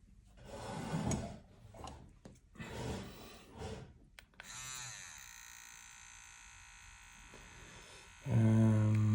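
A Neebol wireless tattoo machine comes on after some rustling and handling noise, settling into a steady, fairly quiet electric hum that grows louder and buzzier near the end.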